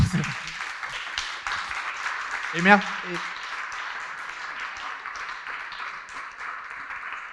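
Audience applause at a conference session on drought and climate change: a sustained, even wash of clapping fills the hall from start to finish, with a brief voice speaking over it near the beginning and a louder vocal moment midway.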